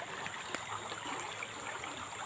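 A river stream flows in a rural Sundanese village in the morning, a soft steady trickle and gurgle of water heard close and fairly quiet, with no voices.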